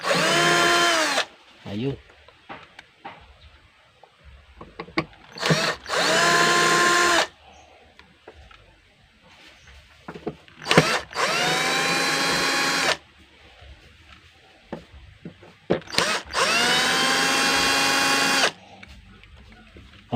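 A cordless power screwdriver backs six screws out of a Bluetooth speaker that will not power on, whirring in three loud bursts of a couple of seconds each, separated by quieter handling noise and someone speaking.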